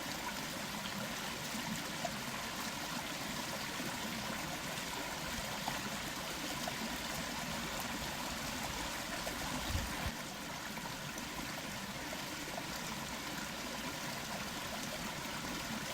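A clear mountain stream flows steadily over colourful pebbles on a riverbed, a continuous even rush and trickle heard up close with no voices.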